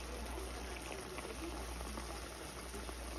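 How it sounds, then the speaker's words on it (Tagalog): Hot water pours into a pan of adobo chicken wings and bubbles up, a faint, steady liquid rush and simmer heard close with no talking. "Lagyan natin sa konting mainit na tubig para lalong lumambot yung wings natin."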